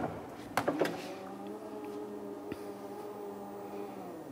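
On a 2019 Porsche Macan facelift, the powered tailgate whirs open in a smooth, quiet electric drone lasting several seconds, preceded by a few brief clicks and a soft latch thump.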